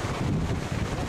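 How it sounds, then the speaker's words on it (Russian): Steady wind buffets the microphone, a low rumbling roar with no other sounds. "Ветер напротив дует"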